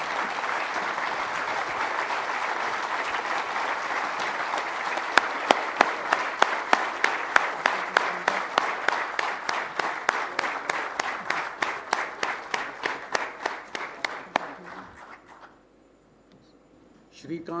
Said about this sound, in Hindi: एक बार अपनी सीट पर खड़े होकर जोरदार तालियों के साथ हमारे संस्थापक और अध्यक्ष के जन्मदिन के लिए उनका अभिवादन करें